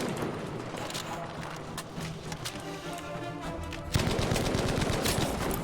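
Rapid Bren machine gun fire in the World War II shooter Battlefield V rattles steadily throughout, growing louder and denser partway through, amid busy battlefield noise.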